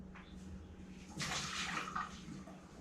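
Water pours out of a pressure canner holding jars of venison, a brief gushing splash of about a second, fairly quiet and close, with no talking during the pour.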